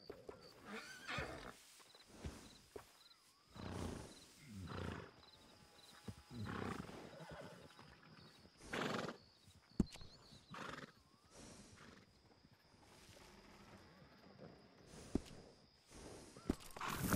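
A horse in the video game Red Dead Redemption 2 snorts and whinnies in repeated bursts, with occasional hoof thuds and sharp clicks, all fairly faint.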